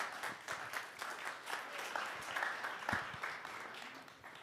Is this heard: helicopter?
no